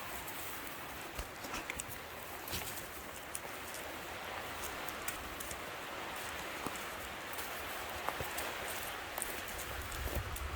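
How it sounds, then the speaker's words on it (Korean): Rain falls steadily outside, a dense close patter of drops with scattered sharper taps striking surfaces, continuous and fairly quiet throughout with no talking. "밖에 비 떨어지네"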